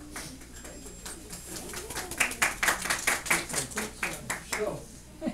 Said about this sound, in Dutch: Wel een applaus, hè?